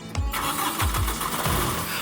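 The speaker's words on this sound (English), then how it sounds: "When starting up your tractor," A tractor engine cranks and catches, a few rhythmic starter turns building into a running engine, heard close and fairly quiet with no speech.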